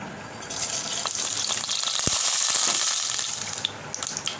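Fennel, nigella and fenugreek seeds hit hot oil for a bitter gourd fry, a sudden loud hissing sizzle that swells and stays steady with a few crackles, close up with no talking.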